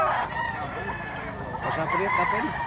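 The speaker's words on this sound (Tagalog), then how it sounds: "Big size ang manok ni tatay." A large gamecock (Grey and Kelso roundhead bloodline) crows amid a busy farmyard, with other fowl clucking and people talking faintly in the background.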